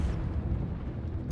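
Game explosions from the mining shooter Deep Rock Galactic: Survivor, a dense continuous rumble of blasts with heavy low-end booms running through the whole moment, fairly loud, with a brighter crack at the very end.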